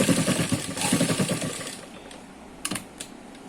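Sewing machine stitching a seam on ladies' narrow palazzo pants, a quick rattling run of needle strokes for about a second and a half, then quiet with a few brief clicks and handling taps.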